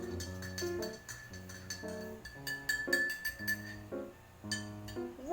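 A spoon clinks rapidly against a glass while salt water is stirred, a quick, irregular run of bright ringing taps, close and fairly quiet.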